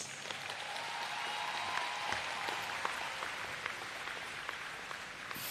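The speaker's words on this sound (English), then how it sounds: "Round of applause for the graduands." Audience at a Caribbean Maritime University graduation applauding the graduands, a steady, fairly faint wash of many hands clapping that holds evenly throughout, heard from a distance in a large hall.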